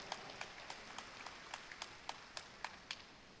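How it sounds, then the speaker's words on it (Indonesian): Audience applause for rector candidates at a university rector election vision-and-mission presentation: sparse, faint, individual claps spaced irregularly, roughly a dozen distinct hand claps with little crowd noise behind them. "Jadi kita berikan aplaus dulu buat seluruh bakal calon rektor Untirta."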